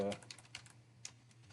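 A few scattered keystrokes on a computer keyboard as an admin password is typed while setting up a Windows Server 2022 virtual machine, faint clicks spaced irregularly over a low steady hum.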